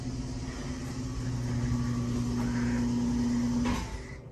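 An old platform lift elevator descends from the second floor with a steady mechanical motor hum that runs for several seconds, then stops with a short clunk as it arrives.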